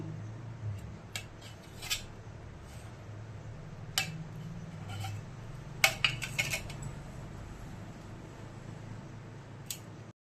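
A knife cuts through a set Sri Lankan vattalappam dessert in a dish, giving sparse clinks and taps against the dish at intervals over a steady low background hum, with no voices.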